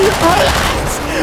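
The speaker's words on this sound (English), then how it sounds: "I'm getting shot at." Dense, loud gunfire in GTA 5 during a roleplay paintball tournament, a continuous rattling burst filling the short moment with no pause.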